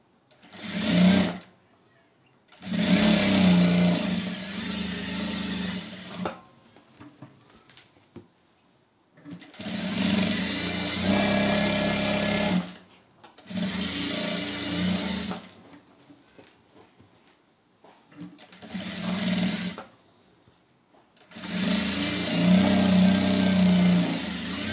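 A sewing machine runs in several loud, steady bursts with short pauses between, stitching the lining of a blouse up close.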